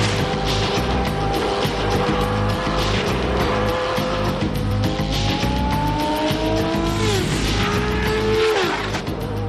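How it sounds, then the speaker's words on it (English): A Formula One car corners at high speed: a loud, continuous high-revving engine whine that rises and falls with gear changes, with tyre noise and no voices. "the defining property of a Formula One car: the ability to corner at almost unbelievable speed"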